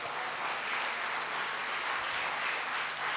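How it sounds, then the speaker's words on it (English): A church congregation claps steadily and fairly loudly together, a dense, continuous wash of hand claps lasting a few seconds with no talking over it. "Give the Lord a clap offering."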